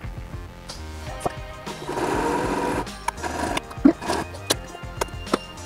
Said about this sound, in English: we are now sewing the bottom